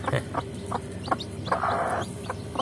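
A newly hatched chick on a rooftop peeps close by in a rapid series of short, high chirps, fairly steady in rhythm with one longer call in the middle.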